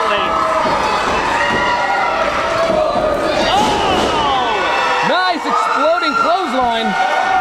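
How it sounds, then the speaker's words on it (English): A wrestling arena crowd at a falls count anywhere match cheers and shouts loudly and continuously, with rising and falling yells over a dense roar, close and full throughout. "This crowd loves it."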